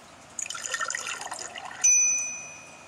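Milk poured in the Pancake Chef video game: a short burst of bubbly, trickling liquid sounds followed by a bright sustained chime-like tone, alone without speech.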